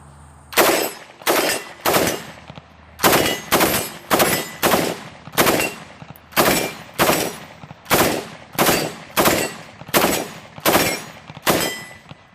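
An AR-15 rifle firing from a high-capacity magazine in a long series of close, loud bursts of rapid shots, each burst separated by a brief pause, with no talking.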